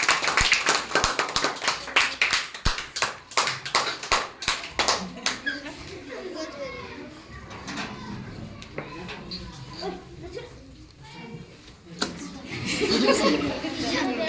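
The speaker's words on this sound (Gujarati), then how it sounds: "ચલો આપણે તાળીઓનો ગડગડાટ ચાલુ રાખીશું" An audience claps rapidly in rhythm during a timed balloon-blowing and cup-lifting party game; the clapping fades and people talk and laugh, then a burst of noise and voices rises near the end.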